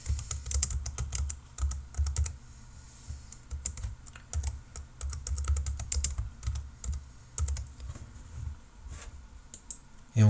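Typing on a computer keyboard to enter a date into timeline software, brisk irregular key clicks in clusters with short pauses, close and fairly quiet.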